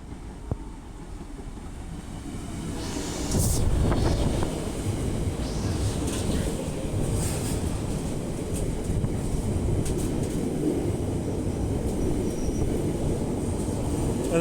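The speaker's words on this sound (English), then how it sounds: "it is a Freightliner 66 536." Freightliner Class 66 diesel locomotive 66536 passing through Stockport station on the West Coast Main Line, a loud sustained rumble of engine and rolling wagons that swells early and stays steady nearby.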